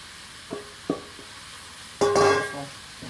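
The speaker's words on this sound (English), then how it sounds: "go ahead and keep adding more mushrooms" Mushrooms being stir-fried in a pan, with a few soft scrapes early on and then a brief, louder burst of sizzling and stirring, set against a quiet background.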